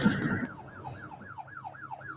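Sirens wail over a video of an explosion at Iran's aviation and space headquarters, a repeating two-tone rise-and-fall sounding steadily for the full length, with a brief noisy burst at the start and no talking.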